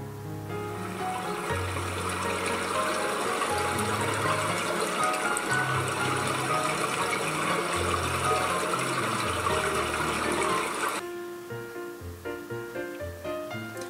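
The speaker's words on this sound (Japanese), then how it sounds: "せせらぎの音はこのような感じです" A babbling brook sound played back through a cloud AI smart speaker: steady, bright trickling and bubbling water lasting about eleven seconds, then cutting off abruptly into quieter residual sound.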